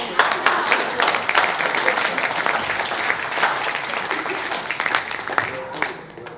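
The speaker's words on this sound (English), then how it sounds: "Thank you, applause." Audience applause at a sports, medicine and money panel talk, a steady dense patter of clapping filling the room and fading toward the end.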